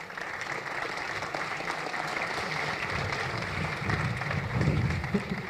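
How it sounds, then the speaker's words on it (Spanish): Audience applause welcoming a speaker at a Spanish-language database talk for developers, steady dense clapping from a sizeable crowd throughout, swelling slightly toward the end with no talk over it. "Pues un aplauso para Carlos Tute."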